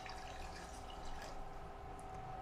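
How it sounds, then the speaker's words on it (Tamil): Water poured into a pan of chicken curry makes a quiet, continuous trickling and splashing that runs evenly the whole time, with no talking. "இப்போ நம்ம தண்ணி சேர்த்துக்கலாம்."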